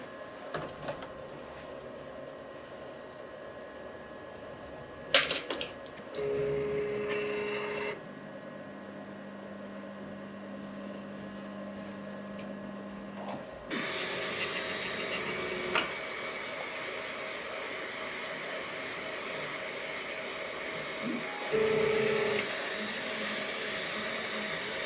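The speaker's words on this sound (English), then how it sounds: "Then we can take it over to the printer and print it as per normal." A Neptune 4 3D printer runs through a print job, giving a steady mechanical hum with fan whir, brief clicks and shifting stepper-motor tones that change pitch partway through, close and continuous without any voices.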